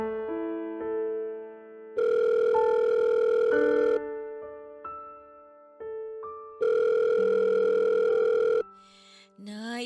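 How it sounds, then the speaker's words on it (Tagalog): A telephone rings in electronic bursts, steady tones several seconds long separated by gaps with short beeps, clear and close, and a brief shuffle follows at the very end. "Sagutin niyo na po yung tawag."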